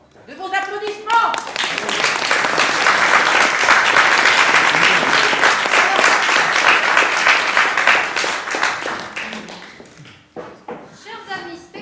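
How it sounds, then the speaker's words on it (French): Theatre audience applauding at a poetry-themed stage show, a loud dense roar of clapping that swells quickly and holds steady for several seconds before fading, with a voice speaking briefly at the start and end. "madame a besoin de vos applaudissements"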